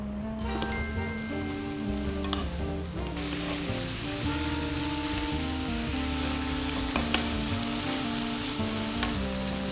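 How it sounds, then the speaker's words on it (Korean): Mushrooms and green onions seasoned with salt and pepper stir-fried in a pan over high heat, giving a steady, close sizzle and crackle throughout, with a constant low hum beneath and no talking. "버섯을 넣고 소금, 후추로 간을 해준 뒤에 좀 센 불에 볶아줄게요"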